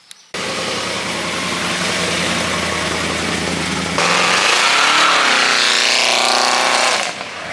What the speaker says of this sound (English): I love the sound of that truck.